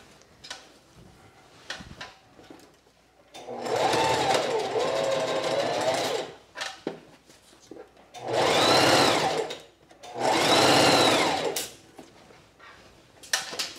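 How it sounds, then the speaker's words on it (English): A sewing machine stitches a dress seam in three long, loud whirring runs of rapid needle chatter. Between the runs, quieter handling and fabric sounds come through. "So you want to make sure you're only sewing through one layer at a time."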